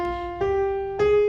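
A few plucked or struck tones in sequence, each note ringing clearly, tracing the Japanese In scale as a sparse pentatonic melody with a distinctly Japanese modal color.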